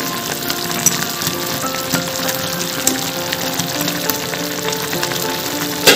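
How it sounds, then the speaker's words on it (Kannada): Milk mixture for Hyderabadi double ka meetha bubbles in a pan on the stove, a steady close hiss with scattered small pops and crackles throughout. "ಇದನ್ನು ಸ್ವಲ್ಪ ಹೊತ್ತು ಹೀಗೆ 2 ನಿಮಿಷ ಕುದಿಸ್ಕೊಳ್ಬೇಕು"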